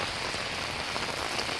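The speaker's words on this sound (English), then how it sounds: "We got rain now, working on the gutters, and the rain's coming" Steady rain falls on a house during gutter work, a dense, even hiss of drops on surfaces that continues without a break and with no voices.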